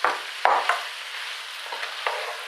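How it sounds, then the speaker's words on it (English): A pot of tomato soup is stirred with a spoon, giving a few distinct scraping strokes and knocks over a low hiss, close, with no one speaking. "Just stir that, make sure it's alright."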